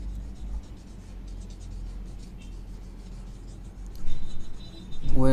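Pencil hatching and shading on paper makes a soft, continuous scratchy rubbing, faint and steady, growing a little louder with brisker strokes toward the end.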